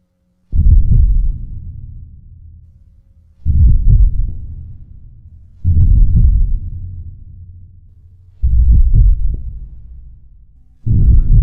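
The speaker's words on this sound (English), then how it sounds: "we get to hear both of those elements, the wind through the wings and the heartbeat of the ring together." A deep, loud heartbeat effect for the Ring, layered with wind rushing through a fell beast's wings, pulses in five heavy, evenly spaced throbs. Each throb decays into a low rumble before the next.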